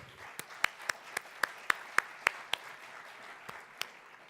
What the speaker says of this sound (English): I'm going to ask you to give some applause, not to the video, but to yourselves